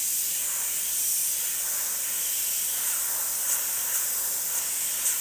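Airbrush spraying paint lightly onto a canvas and paper shield, a steady close hiss of air that carries on without a break.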